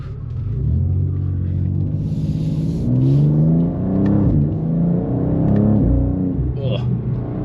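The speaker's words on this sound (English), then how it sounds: "this sounds like a proper inline six" A BMW M2 G87 inline six with an Akrapovic exhaust rumbles and revs up and down in rising and falling sweeps, heard from inside the car with talk over it.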